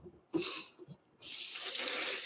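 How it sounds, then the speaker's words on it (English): Tap water splashes over celery stalks as they are rinsed in a sink, starting in short bursts and then running in a steady, close rush. "Celery tends to get a lot of dirt up in the stalk, so we are going to rinse this very well."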